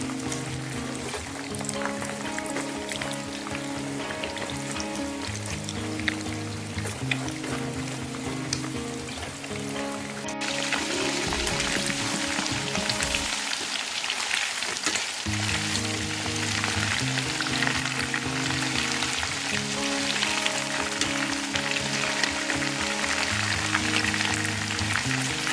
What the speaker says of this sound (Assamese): মাংসখিনি ভজা হৈ গৈছে।